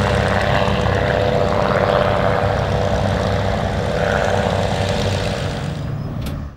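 A de Havilland passenger biplane's propeller engine drones loudly and steadily at close range, then the sound tapers off near the end.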